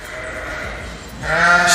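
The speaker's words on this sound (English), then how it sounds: "sheep both on my left and on my right side" Sheep bleating on a farm in Israel, a steady wavering bleat followed by a louder, closer second call, with faint barn background and no talk.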